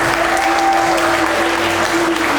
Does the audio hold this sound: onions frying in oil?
no